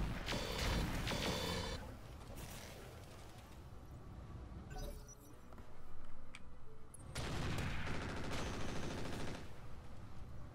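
Weapons fire in the Roguetech mech combat game, with bursts of rapid shots in two heavy clusters at the start and end, quieter rumbling and mechanical clatter between, no talking.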